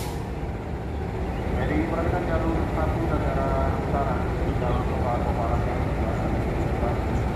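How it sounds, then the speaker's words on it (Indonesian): Argo Parahyangan train running straight through Purwakarta station without stopping, a loud steady rumble of wheels and engine that holds throughout at close range, with some faint tonal squeal above it. "Hati-hati, Argo Parahyangan melintas langsung."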